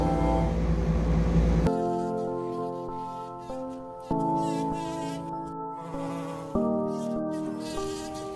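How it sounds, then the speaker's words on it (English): A bumblebee in a tropical rainforest buzzes loudly and close, a steady droning hum that shifts pitch in a few abrupt steps as it works flowers for pollen, with no speech. "This buzzing is a secret password, the key to a lock. What this bumblebee is after is pollen."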